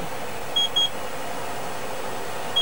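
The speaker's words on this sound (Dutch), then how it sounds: "Dit is een wekker." An alarm clock gives a couple of short, high electronic beeps in quick succession, then one more near the end, over a quiet background hum.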